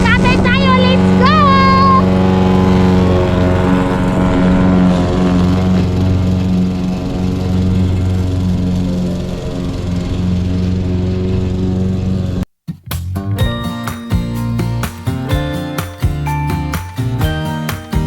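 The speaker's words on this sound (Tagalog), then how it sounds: "And, mag-grass cutter tayo." A grass cutter engine runs loud and close with a steady buzzing drone for about twelve seconds, then cuts abruptly to rhythmic music.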